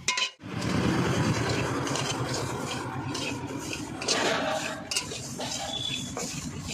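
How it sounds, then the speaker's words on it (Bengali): Lentils being dry-roasted in a hot pan, with a steady, continuous rustling and scraping of stirring plus occasional light metallic clinks against the pan, close and alone. "ডালটা ভেজে নিচ্ছি শুকনো খোলায়"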